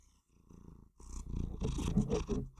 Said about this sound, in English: You're just hanging out by my feet and meowing like a maniac?